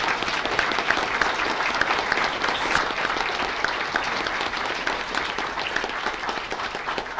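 Dense, steady applause from a sizable crowd at a school board meeting, many hands clapping together at an even level throughout.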